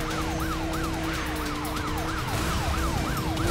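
Police car siren in the Need For Speed Rivals racing game, wailing in a steady rising-and-falling cycle over a constant engine rumble as the cop chases close behind.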